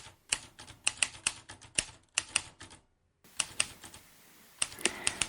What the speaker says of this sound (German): Zu den wenigen Dingen, die Bruno Vogel auf der Flucht bei sich hatte, gehörte seine Schreibmaschine.